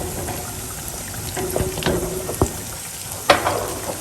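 Vegetables with added water being mixed in a pan for a Hyderabadi veg dum biryani, a low steady sizzle with a few soft scraping stirs and one sharper clink near the end, no talking.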